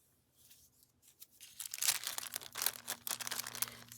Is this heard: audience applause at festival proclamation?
no